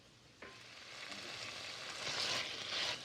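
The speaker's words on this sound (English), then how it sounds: "So I got my vegetables here sauteed." Onions, garlic, celery and carrots sauté in a pan: a soft thump early on, then a steady close sizzle that grows brighter and louder toward the end.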